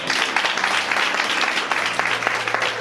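A church congregation at a revival conference applauds together, a steady crackle of many hands clapping throughout, fairly near and even in level, with a faint voice underneath.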